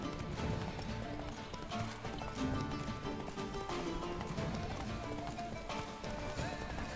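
Horse hooves galloping in The Witcher 3: Blood and Wine, a steady rhythmic clip-clop running continuously under game ambience and music, with faint talk at times.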